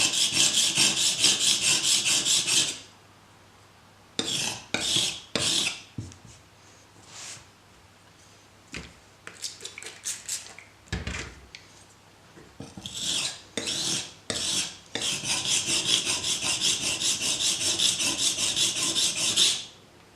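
A StatTrak Gut Knife is drawn across a sharpening stone in close, loud rasping strokes to work off the burr: a long steady stretch, then a quick run of separate short passes, then long sustained strokes again.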